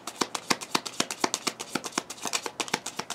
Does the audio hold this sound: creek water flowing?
no